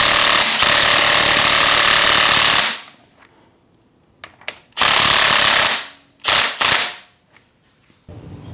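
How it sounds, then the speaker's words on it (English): An impact gun loosens the rear sprocket nut on a raised Yamaha R1 motorcycle. It fires in loud hammering bursts: one long rattle, then a few shorter blips with quiet gaps and small clicks between them. "with the bike already in the air and access to an impact gun"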